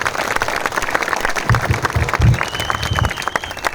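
An audience at a political gathering bursts into sustained applause, a dense, lively wash of clapping from a crowd that swells and fades over a few seconds with no speech over it.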